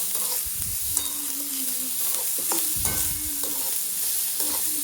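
Grated fresh coconut and sugar are stirred in ghee in a pan for coconut vadi, a soft sizzle beneath repeated scraping strokes of a spoon, close and fairly steady.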